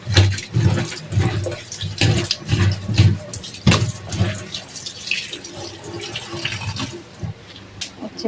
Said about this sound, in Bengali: উচ্ছে পেঁয়াজটাকে একসাথে নিয়েই ধুয়ে ফেলবো